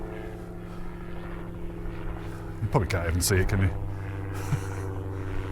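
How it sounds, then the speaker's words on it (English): A gyrocopter drones steadily overhead above an open hillside walking track, a constant rotor and engine hum running throughout while a person talks briefly over it. "Oh, it's one of those gyrocopters."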